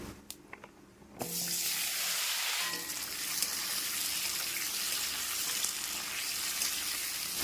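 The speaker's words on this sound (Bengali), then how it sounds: "এবারে দিয়ে দেব কেটে রাখা আলু আর পেঁপে" Cut potatoes and papaya hit hot oil with panch phoron in a kadai, giving a loud, steady sizzle after about a second of quiet that runs unbroken to the end, with no voices.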